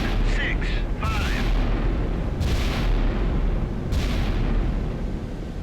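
Heavy naval gunfire from the battleship Wisconsin in Sea Power, high explosive shells firing as deep, sustained booms over a constant loud rumble, with a few sharper blasts standing out and a voice talking over it.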